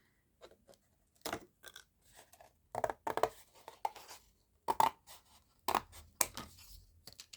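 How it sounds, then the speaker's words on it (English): Scissors snip a flap off a sheet of craft foam while making foam stamps, giving a series of short, close, crisp cuts in irregular bursts with quiet pauses between them. "so I'm going to cut the flap off."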